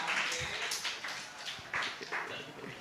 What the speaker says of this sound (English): Actually, let's give her a standing ovation as she moves